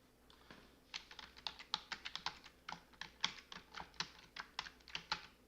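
Fingers typing a town name on a computer keyboard, a quick, uneven run of about twenty crisp key clicks, close and fairly quiet, with no talking.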